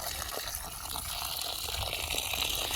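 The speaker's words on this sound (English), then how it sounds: "Turn this water on because I gotta go water chickens" A garden hose runs steadily outdoors, a continuous moderate gush and hiss of water being used to water chickens and corn, with no talking.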